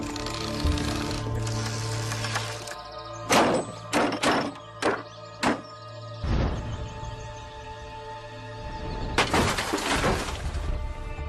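A ballista projectile strikes a stone wall with a burst of sharp cracking impacts in quick succession, followed by a louder crumbling crash, heard over a low steady hum without speech.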